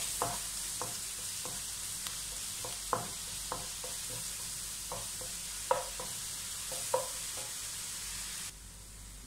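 Garlic and ginger sautéing in a pan for butter chicken, a soft continuous sizzle punctuated by regular light scrapes of a spoon, fairly faint and with no talk.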